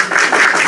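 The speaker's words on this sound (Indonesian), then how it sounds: "Tepuk tangan untuk Tuhan." A short, loud burst of crowd clapping, dense and close, lasting under a second with no talk over it.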